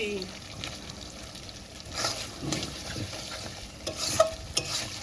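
Chicken skin frying with spices and onion is stirred in a pan, giving a steady background sizzle with intermittent spoon scrapes and clinks, and a few louder knocks near the end.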